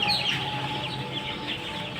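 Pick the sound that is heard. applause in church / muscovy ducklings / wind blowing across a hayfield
muscovy ducklings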